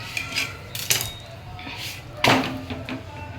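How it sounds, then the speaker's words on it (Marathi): A masala bhakri flatbread is turned over on a hot pan, with a few sharp metallic clanks and scrapes of a utensil against the cookware, spaced irregularly and close by. "आता आपण या भाकरीला काय करणार आहे, पलटी मारणार आहोत."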